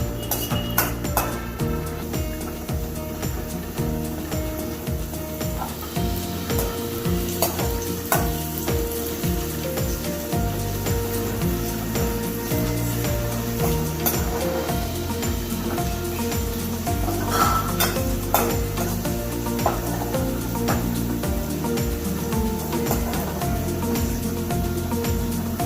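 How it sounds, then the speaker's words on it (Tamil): Onions sauté in oil in a pan for a Tamil chicken curry, a continuous sizzle with occasional utensil clinks and stirring, heard under steady background music. "வெங்காயம் நல்லா சுருள வதக்கி வச்சு எண்ணெயிலே தான் வதக்குறேன்."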